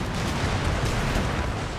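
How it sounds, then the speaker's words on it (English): Naval cannon fire exchanged between ships in the video game Empire: Total War, a dense continuous rumble of overlapping booms with no distinct gaps, moderately loud throughout. "So exchanging gunfire there"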